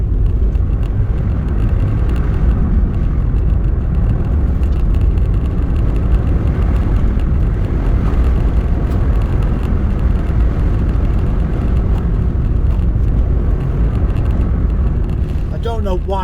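An MG ZR hatchback drives along, its engine and road noise forming a loud, steady, close roar that holds throughout with little change.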